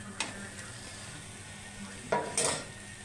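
Clams stirred and fried in a pan with browned spice powders, giving a steady soft sizzle with a few clinks and scrapes of a spoon against the pan, close by and with no talking.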